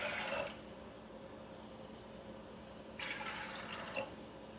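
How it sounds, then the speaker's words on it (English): Water splashes into a metal pressure cooker in two short pours separated by a quiet pause, with a low background hum. "And I'm adding 2 cups of water."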